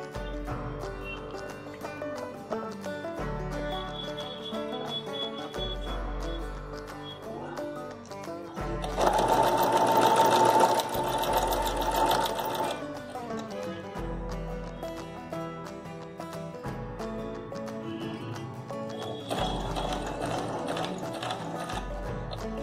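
A sewing machine stitches a boutique-style dupatta in two separate bursts of rapid mechanical whirring, each a few seconds long, over a quieter steady tonal background.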